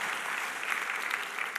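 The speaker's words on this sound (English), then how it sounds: "And a round of applause." Steady applause from an audience at a Mars habitat reveal event, dense clapping sustained evenly throughout with no talk over it.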